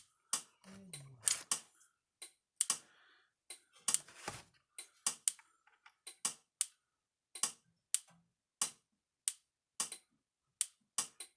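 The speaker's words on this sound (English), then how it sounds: "A little louder clicking sound coming from it too." A Speedrite 2400 electric fence energizer, under repair, gives off sharp, close clicks at a steady pace of roughly one per second. Each tick stands out crisply against near silence.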